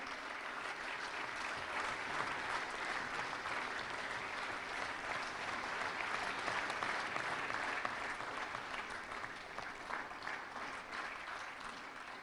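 Sustained audience applause fills a ceremony hall during a vigilance awareness week event at Vigyan Bhawan, a steady, dense wash of many hands clapping without pause.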